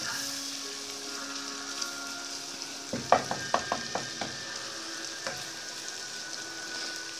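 Sliced onion being stirred and sautéed in a pan on the stove, a soft steady sizzle with a burst of sharp utensil scrapes and clicks near the middle, then a lone clack before the frying hiss settles again.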